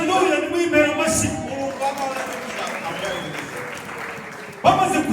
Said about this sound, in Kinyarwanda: haleluya nimwimera amashyi